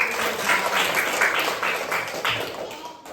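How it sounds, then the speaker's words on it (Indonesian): A group claps in a steady burst of applause lasting a few seconds, fairly loud and close, then it fades out. "Oke, tepuk tangan."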